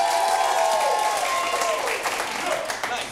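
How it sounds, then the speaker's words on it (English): An audience at a Shakespeare game show bursts into applause and cheering, a dense crowd roar that holds for a few seconds and fades slightly. "you need to burst out into uproarious applause"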